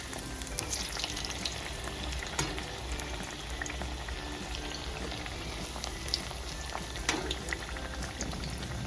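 Alu vadi, rolled colocasia leaf slices, fry in oil on a medium flame, a steady soft sizzle with scattered small pops and crackles, fairly quiet and continuous, with no voices.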